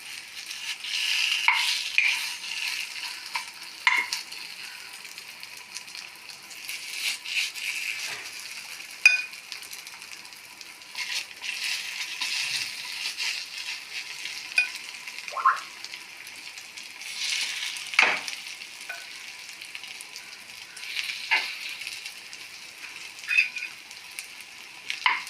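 Chicken unniyappam frying in oil in a pan, a steady bright sizzle with intermittent crackles and pops, moderately close, no speech.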